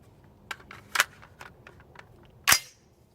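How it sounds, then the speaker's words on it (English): Rifle shots from a DDM4V11 Pro fitted with a Geissele trigger: a few sharp, loud reports, two in quick succession near the start and a single crack later, each cutting off quickly against faint background. "let's get our ears in and do a little bit more shooting"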